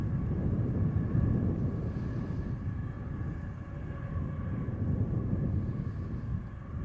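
Steady low rumble of an aircraft engine around Manchester Airport, an EasyJet jet arriving from Hamburg, a continuous broad roar at moderate distance with no talking.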